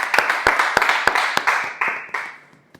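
A small audience gives a round of applause for a speaker at a public-speaking session, a handful of distinct claps at first that thin out and fade over a few seconds.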